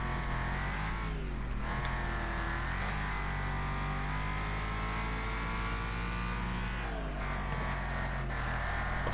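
Racing car in Wreckfest online race roars continuously under heavy throttle, engine pitch climbing and dropping with gear changes and corners, loud and close with no pauses.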